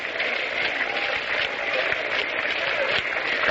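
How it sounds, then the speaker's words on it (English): A 1934 Detroit Tigers versus New York Yankees baseball crowd keeps up a steady, half-hearted hand clapping, heard as a continuous distant patter with no voice on top. "The crowd is beginning a sort of a half-hearted hand clapping."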